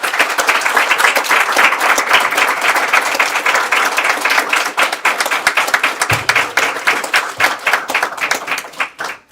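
A graduation ceremony crowd at a law school commencement held in a prison setting applauds in a dense, sustained wash of clapping that thins and tapers toward the end, with no talk over it.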